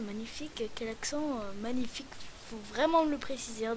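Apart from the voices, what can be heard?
No everyday noises stand out.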